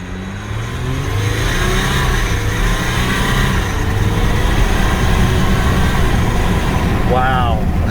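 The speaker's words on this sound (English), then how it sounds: "it's got that that diesel chatter" A 2021 Jeep Gladiator 4x4 diesel engine runs loud and close, with a steady rumbling drone and rougher diesel clatter that holds throughout, and a brief chirp near the end.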